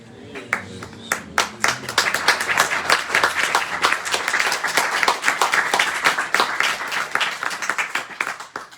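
An audience claps by hand at an evening house program in Switzerland, a dense, steady round of applause that builds quickly and carries on loud and close for several seconds with no talk over it.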